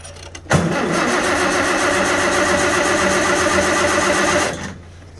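A Farmall tractor engine cranks, catches and then runs at a loud, steady roar, heard close up for about four seconds before it suddenly drops away.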